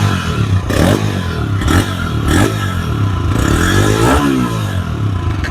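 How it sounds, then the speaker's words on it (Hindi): A 2025 TVS Raider 125cc motorcycle engine revs up several times in quick bursts, each rise in pitch falling back to a rumbling idle, loud and close. "मैं इसको थोड़ा सा रेस करके आपको"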